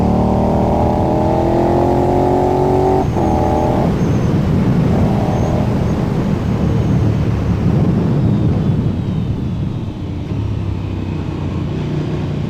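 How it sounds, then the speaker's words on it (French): A KTM 1290 Super Duke R motorcycle engine drones loudly and steadily while riding, with the pitch climbing through gears, then falling away into a rumbling cruise under rushing wind. "Je vous laisse un peu avec le son de la moto."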